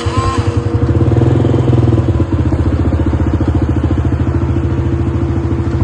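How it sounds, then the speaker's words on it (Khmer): A motorcycle engine runs at idle close by, a loud, steady, rapid putter with a brief rise in the first two seconds before settling into an even, throbbing rhythm. "ម៉ាស៊ីនម៉ូតូគឺដេមួយឆេះបងប្អូនអាចស្ដាប់បាន"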